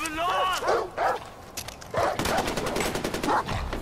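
Dogs in Far Cry 4 bark in several quick, sharp bursts, mixed with bursts of rapid gunfire and other game noise in a busy combat scene.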